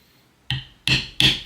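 Three sharp, separate strikes punch holes in leather for a knife sheath. Each impact is close and crisp, and the blows come in quick succession after a short quiet start.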